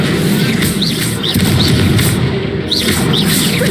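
An Incendio fire spell cast in Hogwarts Legacy, heard as a dense, steady roaring rush with repeated whooshing flares over continuous game noise.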